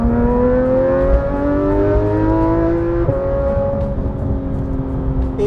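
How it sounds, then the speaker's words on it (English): Exhaust of a Porsche GT3 sports car accelerating hard on a Highlands road, a loud, close engine note rising steadily through the revs, with a gear change partway through and the pitch climbing again, no talking. "let's just get a little of this exhaust."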